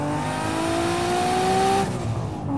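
A single-turbo 1991 Acura NSX engine revs hard in second gear, a loud rising drone climbing steadily in pitch for about two seconds before dropping off as the throttle lifts, with faint tire noise beneath.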